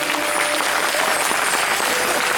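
Dense, steady clapping from a crowd at a Shrimad Bhagwat Katha religious gathering in Manegaon, Chhindwara, continuous and fairly loud throughout.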